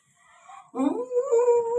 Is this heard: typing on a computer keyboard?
no